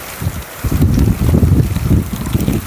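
Heavy rain driven by strong wind in Banaskantha roars in low gusty bursts, loud and close as the wind buffets the microphone.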